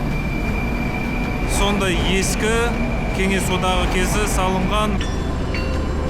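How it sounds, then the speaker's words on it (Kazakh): A Baku metro train runs through a tunnel with a loud, steady rumble, brakes or wheels squealing in a rising and falling pattern midway, while someone speaks over it. "осы тармақтағы пойыздар жаңа болып келеді."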